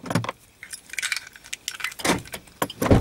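Maruti Ciaz smart key and keyring jangling as the key is pulled out, several bright metallic clinks and rattles in quick irregular bursts, close and clear.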